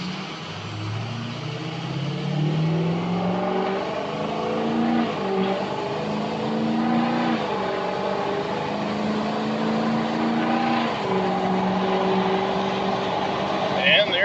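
A car accelerates from 0 to 60 on a test drive, the engine note climbing steadily through several gear changes, loud and sustained throughout.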